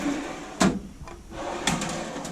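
A drawer on a US General tool chest slides and bumps twice, each a sharp metallic clunk with a short rolling rattle, close and clear with no voices.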